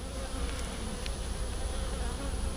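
Honeybees buzz steadily around an open hive in hot weather, a dense, continuous drone close by with no voices over it.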